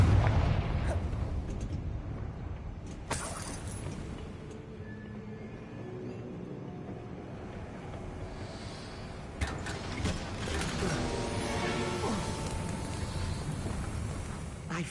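Confringo fire spell blasts in Hogwarts Legacy on PS5: a sharp burst opens, followed by rumbling, crackling aftermath and a second cluster of impacts later, all fairly faint amid game ambience.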